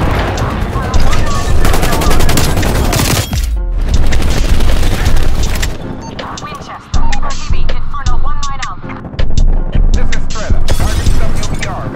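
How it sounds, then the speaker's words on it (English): Napalm strike in Call of Duty: Black Ops Cold War multiplayer on Nuketown, a loud dense run of booming blasts and rapid gunfire that keeps cutting off and restarting, with heavy crackling bursts throughout. "Transmitting vector for napalm strike."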